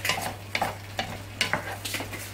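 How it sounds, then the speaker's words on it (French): Pizza sauce is stirred in a pan, with soft sizzling and repeated scraping strokes at a steady rhythm, fairly quiet and close. "là je mélange le tout"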